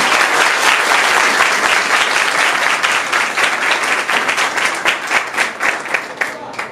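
A crowd at a school gathering in Haiti breaks into loud, sustained applause, dense at first and then thinning into more separate claps, with faint voices mixed in.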